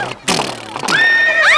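A horse lets out a loud, close whinny, its high quavering call sliding downward and then rising again after a brief rustle in a comedy scene, with no talking over it.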